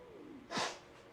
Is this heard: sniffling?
yes